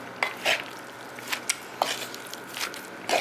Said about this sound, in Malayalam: ഇനി നമുക്കിതൊന്ന് നന്നായിട്ടൊന്ന് മിക്സ് ചെയ്തെടുക്കണം.